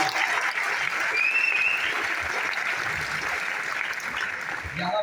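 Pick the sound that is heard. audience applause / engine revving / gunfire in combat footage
audience applause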